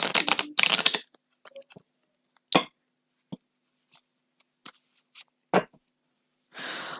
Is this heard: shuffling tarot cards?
yes